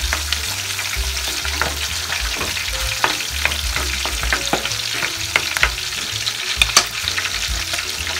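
Garlic sautés in a pan with a busy, crackling sizzle that runs steadily throughout, punctuated by frequent pops and clinks of a utensil stirring.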